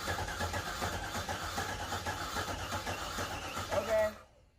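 Car engine cranking over repeatedly during a misfire diagnosis on a car with a blown head gasket, a steady mechanical churn that runs close and loud for about four seconds before cutting off abruptly.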